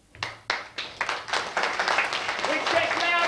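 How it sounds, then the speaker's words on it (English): Polite audience applause at a live event, starting with a few separate claps and building into steadier, moderate clapping from a crowd. "start off with polite applause."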